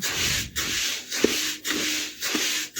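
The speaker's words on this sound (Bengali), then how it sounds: "এই দেখুন এইভাবে হালকা আঁচে চালটা আমি বেশ ভালোভাবে গরম করে নেব" Dry rice stirred in a pan over low heat, a steady rasping scrape of grains against metal in repeated strokes with brief pauses between, close and fairly loud, no talk.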